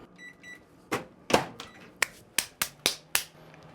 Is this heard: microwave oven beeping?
yes